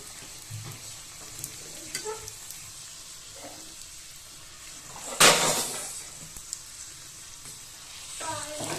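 Puri dough for pani puri deep-fries and puffs in hot oil with a steady close sizzle, punctuated by a sharp loud burst of crackling as fresh pieces drop in and quieter stirring clatters.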